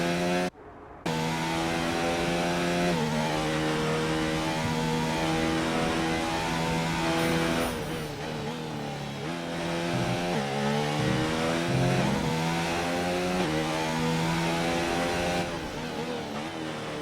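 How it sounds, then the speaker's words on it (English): Two Mercedes racing car engines in a racing video game, running closely together on track in Russia with a steady, loud, high-pitched droning whine that shifts pitch as they rev, with no talk over it. "we've got the two Mercedes running in very close company together on the track right now"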